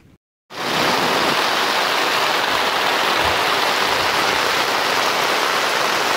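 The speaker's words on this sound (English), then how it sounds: "I can't believe how much rain is falling and how fast." Heavy rain pours down steadily and loudly in an outdoor survival camp, a dense continuous hiss that starts abruptly after a brief quiet moment and stays constant.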